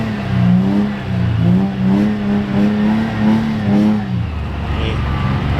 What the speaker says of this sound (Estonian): See drifti auto tahab driftida hirmsasti